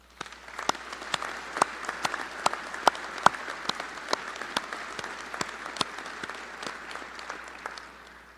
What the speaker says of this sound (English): Please join me in a round of applause for Chief Bowen.